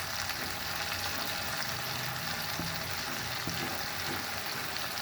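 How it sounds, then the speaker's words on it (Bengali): Turmeric, chili, coriander and cumin powders are sautéed in a pan for a shrimp and taro curry, producing a dense, even frying sizzle that stays constant throughout. The sizzle is close, and nobody speaks. "এখন আমি এগুলোকে কষিয়ে দিচ্ছি"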